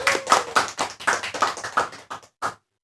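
A small group clapping at the launch of an aviation podcast in Tarakan, a run of about ten sharp, close claps in a quick uneven rhythm that thins out and stops after a last clap.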